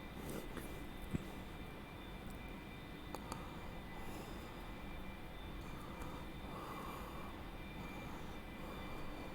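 Jet aircraft engine in a flight combat video game, a steady broad roar with faint high whine, constant and sustained throughout with a few small clicks.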